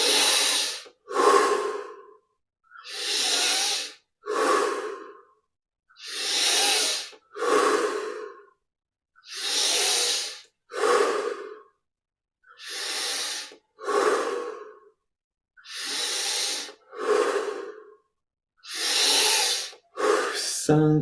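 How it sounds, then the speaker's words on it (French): Slow, deep meditative breaths repeat in an even rhythm, each long inhale and exhale close and clearly audible, separated by brief quiet pauses. "On augmente l'amplitude des respirations."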